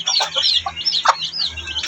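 A hen clucks in short, soft bursts, with faint chirps from chicks in the background; close by and steady.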